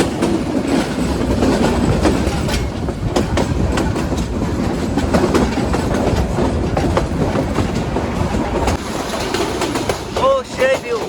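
The Parabat Express rumbles along the rails on the Dhaka to Sylhet run, with a loud clickety-clack of wheels on track joints, rattling carriages and a brief squeal near the end.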